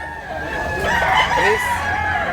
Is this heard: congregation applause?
no